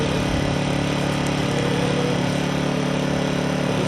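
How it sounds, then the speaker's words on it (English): A Harbor Freight Predator 1400 generator running at a steady idle, an even, continuous engine drone with a constant hum and no pauses, heard close up and alone. "hopefully you can hear me, but it's a super quiet generator"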